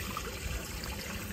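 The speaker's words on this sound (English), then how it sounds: "you can see the water coming out of the saddle valve" Water from an aquaponics saddle valve trickles and splashes in a steady, faint stream, close by and without a break, with no voices.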